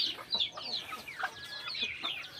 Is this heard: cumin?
no